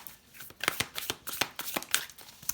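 Tarot cards are shuffled for a cross spread, a quick run of crisp riffling slaps and flutters, close and fairly quiet, with no talking.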